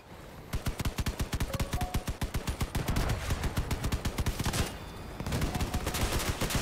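Rapid bursts of cannon fire from a combat vehicle in the game Crossout, a dense run of sharp, loud repeated shots in quick succession, pausing briefly before resuming at a similar tap-fire rhythm.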